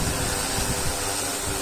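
A large drone descends to land outdoors, its rotors giving a steady whirring drone mixed with wind rush, continuous and fairly close with no talk.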